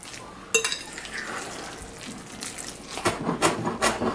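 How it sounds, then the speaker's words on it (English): Mayonnaise stirred into a chickpea tuna salad in a bowl, a close scraping, squelching mix with a sharp utensil knock near the start and a louder flurry of stirring strokes toward the end. "I'm gonna mix this in."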